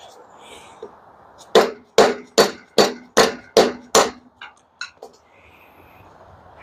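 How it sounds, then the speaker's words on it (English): Seven evenly spaced, solid thuds from a dead blow hammer while making a prybar, close and loud, followed by a couple of softer taps. "That's why I also use a dead blow hammer."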